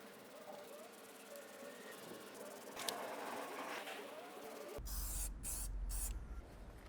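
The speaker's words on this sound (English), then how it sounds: "restore it back to black with this fabric spray" Faint background noise, then a few short bursts of aerosol fabric spray hissing out close by onto a BMW E38 750iL car's interior fabric near the end.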